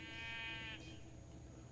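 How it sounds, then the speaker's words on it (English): A single sheep bleat from Minecraft, a short wavering nasal call heard faintly over a quiet game background, followed by a soft brighter sound. "That was a sheep."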